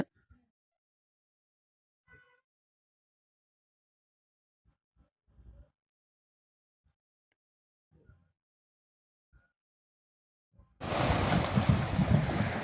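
Sea surf on the shore at Pamban, where fishermen push a net-laden shore-seine boat into the water. Scattered faint bumps give way to a sudden, loud, steady roar of waves and wind for the last two seconds.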